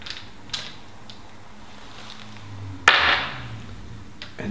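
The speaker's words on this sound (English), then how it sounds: "And just wind the cluster off using the tool." Bicycle cassette cluster being wound off the hub with a removal tool: a few faint metallic ticks and clicks, then one sharp creaking crack as it breaks loose, close and alone.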